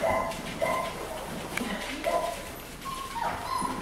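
Beagle puppies whimper and yip close up, with repeated high thin cries and short yelps coming in quick irregular bursts over a busy indoor background.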